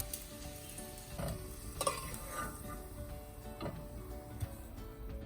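Potato pieces frying to golden brown in hot oil in a kadhai sizzle and crackle steadily, with occasional sharp pops and the clicks of stirring.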